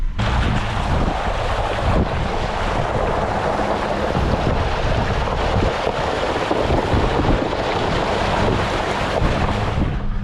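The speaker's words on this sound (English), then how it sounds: "It is super duper windy, like 30-mile-an-hour gusts." Strong, gusty wind of around 30 miles an hour sweeps across an open field, pounding the microphone with a continuous loud rumbling roar and bursts of buffeting.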